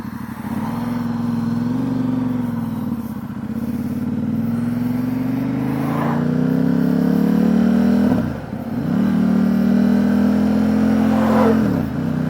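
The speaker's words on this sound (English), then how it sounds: "So I'm going to put my helmet on now, get on the bike and go for a ride." A 2019 Ducati Diavel 1260 S with a Termignoni exhaust rumbles loud and steady as it rides, its engine note rising through gears with brief dips at each shift.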